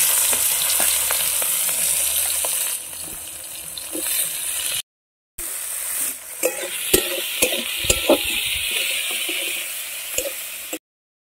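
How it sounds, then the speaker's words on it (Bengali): Chopped onions sizzle steadily in hot oil in a home kitchen, a bright continuous crackle with small pops and occasional clinks of a utensil, briefly cutting out twice. "তেল দিয়েছি বন্ধুরা, এরপরে যাচ্ছে যে পেঁয়াজ কুচি"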